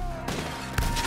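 Gunshots ring out in Red Dead Redemption 2, a sustained volley of firing with a sharp heavy blast near the end, under a busy game mix while someone speaks briefly.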